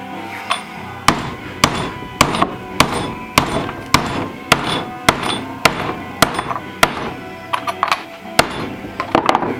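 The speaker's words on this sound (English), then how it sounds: "I'll just flatten a couple of these washers and then bulk them up with rubber" Metal washers being flattened with a hammer: a steady series of about a dozen sharp, ringing strikes at a fairly regular pace, close by and alone.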